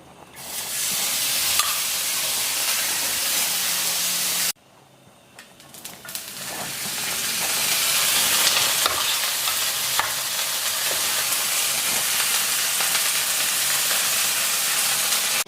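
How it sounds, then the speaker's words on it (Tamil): Bread sizzles in homemade butter on a flat dosa griddle, a steady loud frying hiss that breaks off briefly and then resumes, with no talking. "இப்போ வந்து இந்த ப்ரெட்டை வந்து ரோஸ்ட் பண்ண போகிறேன்."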